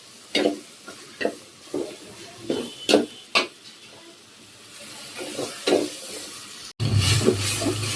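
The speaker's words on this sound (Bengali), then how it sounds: "এই যে মশলা কষাই নেওয়া হইতেছে এখন" Spices sizzle in a pan while a spoon scrapes and stirs in short repeated strokes, and the frying swells louder near the end. The sound is close and no voice is heard.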